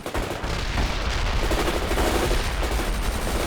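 Dense machine gun fire in the World in Conflict war game, loud and continuous rattling bursts layered with heavy gunfire and battle noise throughout.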